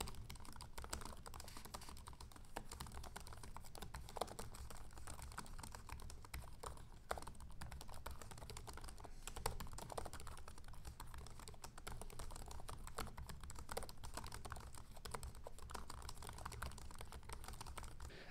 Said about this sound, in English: This is a typing test of the keyboard of the Lenovo Yoga Slim 7 Pro X.